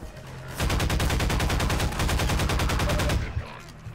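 Rapid automatic gunfire in the video game Half-Life 2, a dense, loud stream of evenly spaced shots lasting about two and a half seconds, preceded and followed by quieter game ambience without talk.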